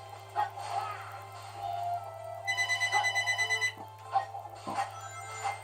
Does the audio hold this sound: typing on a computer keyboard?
no